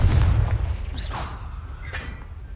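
A magical Confringo blasting spell explodes with a deep, rumbling boom up front, then a brief whooshing crackle and a fainter flare of debris as the blast dies away.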